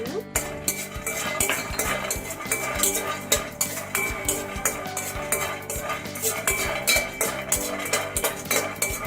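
Peanuts roasting in a pan over a low flame for a dosa masala powder, stirred continuously, giving a steady rhythmic scraping and rattling of nuts against the metal, close and fairly loud with no talking.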